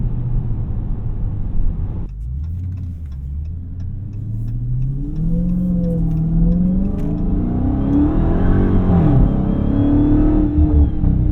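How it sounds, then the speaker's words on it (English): Supercharged 2023 Dodge Charger SRT Hellcat Jailbreak heard from inside as it accelerates, its engine dropping briefly and then climbing in a loud, rising rumble through the gears, with the supercharger whine layered over the roar. "Listen to that supercharger."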